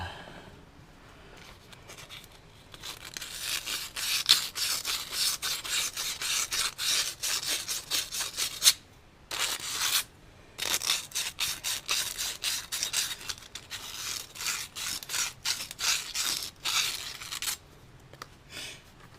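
Rust being scrubbed off the U-joint seat of a Ford Ranger, a close, rapid back-and-forth rasping and rubbing in dense bursts with a few short pauses, loud and with no talking.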